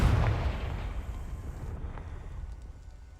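The Confringo blasting spell explodes in Hogwarts Legacy: a heavy, booming burst that opens loud with a deep low thump, then decays into a long, fading rumble.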